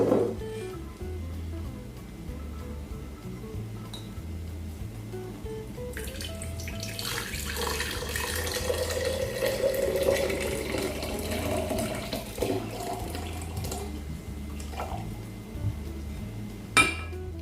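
Groundnut water trickles and splashes as it is strained into a jar, with occasional clinks of glass or metal and a steady pour building in the middle.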